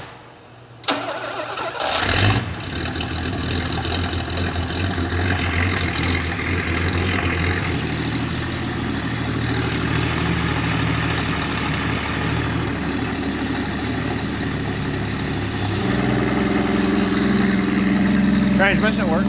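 A supercharged 1962 Slant Six engine mounted on a dyno cranks, catches and starts, then runs loud and steady with a rough mechanical drone, rising in intensity near the end.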